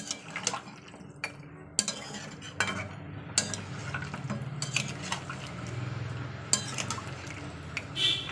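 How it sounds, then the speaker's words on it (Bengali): Metal pots and utensils clatter in a home kitchen as hot water goes into a pot and a lid is set over it, with sharp clinks and knocks spaced across the scene over a steady low background. "দিয়ে আমি চাপা দিয়ে দেবো।"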